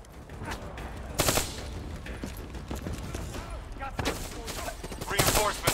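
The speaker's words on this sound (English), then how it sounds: "I'm just gonna keep shooting at Diaz the entire game" Rapid bursts of gunfire from the video game Call of Duty: Black Ops III crackle in sharp clusters, loudest near the start and end, with someone talking over the shooting.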